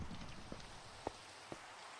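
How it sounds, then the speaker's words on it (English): Steady rain falls with a soft, even hiss, and a few faint drops tap nearby at irregular moments. There is no talk. "Oh, it's raining."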